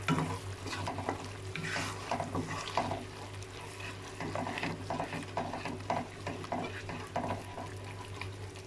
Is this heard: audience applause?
no